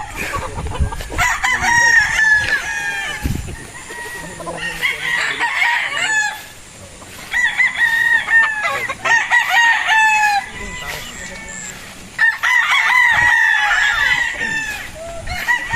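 Battle stag gamefowl roosters crow again and again, long loud calls overlapping one another, with clucking between them on a farm while the birds are handled.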